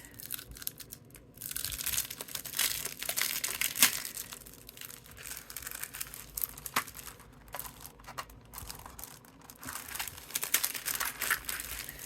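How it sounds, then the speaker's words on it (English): Cardstock runs through an APG die-cutting machine, giving a steady stream of crunchy crinkling and clicking noises with uneven bursts, close up and fairly quiet, with no voices. "now I'm going to start cutting my dies"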